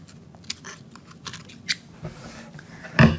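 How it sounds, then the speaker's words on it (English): Scissors snip off the loose ends of yarn on a woven craft llama, several quick sharp close-up cuts spaced irregularly, ending with a louder rustle of handling. "Get your scissors. Go ahead and cut off the loose ends as close as you can."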